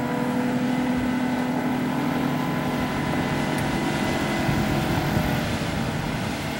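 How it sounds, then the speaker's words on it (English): The engine of a 2013 Sea Fox 256 Commander center console boat throttles up into a steady, droning roar, its tone shifting partway through, with no talking. "He's going to open her up now. There you go. You can hear the different pitch in the engine."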